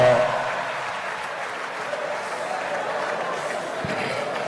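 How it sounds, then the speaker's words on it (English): A large audience at a summit hall claps for a senator in a broad, even wash of applause that sounds somewhat distant and stays steady throughout. "Can you give him a round of applause?"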